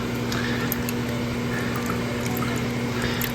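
A coral is rinsed in water before going into a reef aquarium with cyanobacteria trouble, giving a steady, close liquid splashing and pouring wash over a constant low electrical hum.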